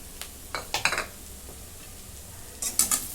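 Spoon scraping and clinking in a pan while amaranth greens are mixed with crushed peanut powder, a few sharp, close strokes with a quiet gap between them.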